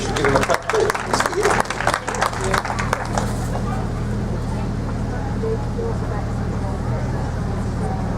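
An audience at a centenary speech event for Edward Millen House gives a burst of dense applause that fades out after a few seconds, leaving a steady room hum.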